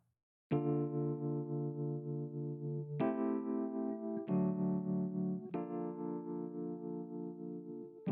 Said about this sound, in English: This was the original Rhodes that was there, and it's played.